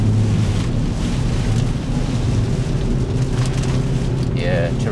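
Heavy, torrential rain roaring steadily around a Hyundai i20N on the move, a constant loud wash of water and road rumble inside the car with no break.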